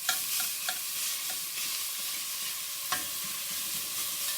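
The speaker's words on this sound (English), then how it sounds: "A lot of mince here, so I'm going to do it in batches. And there's one batch going in there now." A batch of mince spread across the bottom of a pan sizzles steadily, with sharp scraping clicks from a spatula stirring it, moderately close and without talk.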